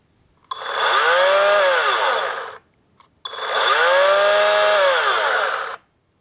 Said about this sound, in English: let's pull the trigger on this thing and see what it does.